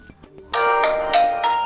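Realme 12 Pro+ smartphone ringing with its classic global theme ringtone, a loud, bright electronic melody of sustained tones that starts suddenly after a brief quiet moment and plays on steadily, close up.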